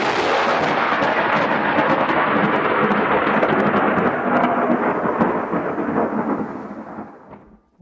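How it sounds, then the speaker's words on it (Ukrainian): Heavy thunder rumbles over a city in steady rain, a loud continuous roar with rolling crashes that fades out near the end. "Над містом раптом важко прогуркотів грім."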